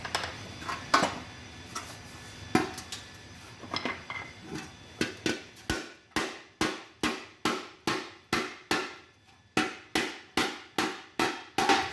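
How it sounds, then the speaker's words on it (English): Hammer blows on the back side of a thin sheet-metal motorcycle fuel tank, a fast run of sharp metallic clangs in steady rhythm, close and loud, after some scattered taps and shop noise. "I hammer this from the back side to push it up so I can get rid of the rest of the weld"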